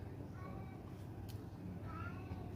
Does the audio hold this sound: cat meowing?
yes